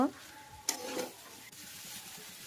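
Veg chowmein noodles are stirred into a hot pan, a brief scrape and clatter followed by a soft sizzle that fades into a quieter frying hiss.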